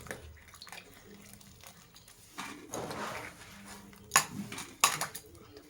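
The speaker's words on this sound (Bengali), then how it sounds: "আমি আগে সোয়াবিনগুলো ধুয়ে নেব।" Soybean chunks being rinsed in water in a pot while cooking spicy potato-soybean curry: soft sloshing and splashing with clinks of metal cookware, building to two sharper clanks near the end, close and moderately loud, no voices.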